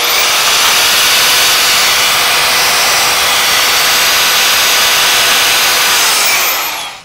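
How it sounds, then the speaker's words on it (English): A VW MK4 coilover bump stop being trimmed: a loud, continuous high-pitched whirring grind runs for about seven seconds at close range, then cuts off, with no voices. "we're about to trim the bump stop"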